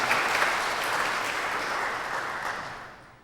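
A church congregation claps during a Sunday worship service at Kyungdong Church, a full, steady wash of applause that gradually thins and fades out toward the end, with no talking.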